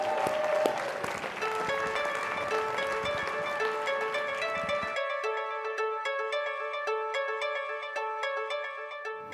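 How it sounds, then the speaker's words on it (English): Applause rises from an alumni awards ceremony audience for about five seconds, then gives way to a sustained musical tone pattern resembling chimes or a ringtone playing alone. "Another huge Rebel round of applause and congratulations to Dr. Sandoval, College of Fine Arts Alumnus of the Year."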